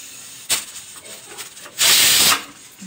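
A pressure cooker holding dal and rice lets out a brief puff of steam, then a loud, sharp hiss lasting about half a second, close up against a quiet kitchen background.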